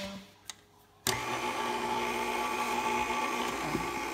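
Cookie dough being mixed with flour in an electric mixer: the motor starts abruptly and then whirs steadily and loudly, with a faint tap just before it starts.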